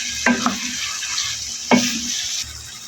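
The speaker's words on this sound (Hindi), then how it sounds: "फिर ज़रा आलू भी डाल के बुनाई करेंगे।" Potatoes and peas frying in oil with spices for aloo matar are stirred in a pan, giving two scraping strokes over a steady sizzle, close and fairly loud.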